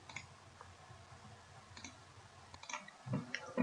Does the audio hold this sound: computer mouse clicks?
yes